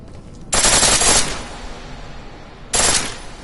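Automatic weapon fire in the video game Deus Ex, two loud sharp bursts of rapid shots, the first lasting under a second and the second shorter, separated by a quiet gap.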